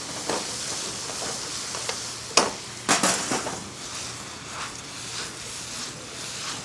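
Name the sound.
pasta sauce sizzling in a pan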